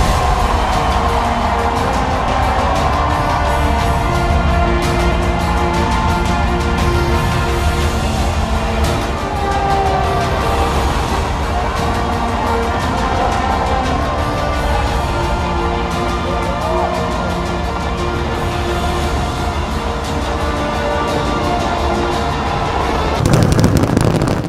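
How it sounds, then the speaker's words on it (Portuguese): New Year fireworks over the Burj Khalifa in Dubai, a continuous dense barrage of booming bursts and crackles heard from a distance, loud and sustained with no pause, swelling near the end. "Dubai preparou uma queima de fogos de artifício no Burj Khalifa, a torre mais alta do mundo"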